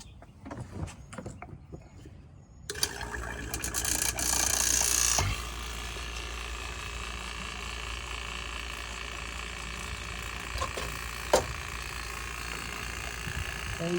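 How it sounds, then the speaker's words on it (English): A vacuum pump draws down the AC system of a 1984 Mercedes 380SL R107, a steady mechanical hum running throughout after a louder start with clanks and a brief higher whine, no one speaking. "you can see we're already pulling a vacuum down"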